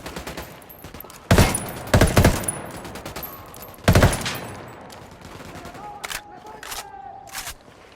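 Ghost Recon Wildlands firefight: several loud, sharp gunshot bursts, some in quick rapid-fire clusters, spaced by quieter gaps, with lighter clicks and a faint tone near the end.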